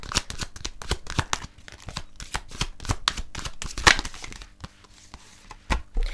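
A tarot investigation deck is shuffled by hand close up, with quick irregular bursts of riffling card snaps and slides that pause briefly before resuming, no talking.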